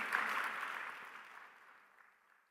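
A church congregation claps together in a burst of applause that starts full and slowly fades away, faint and alone without talk.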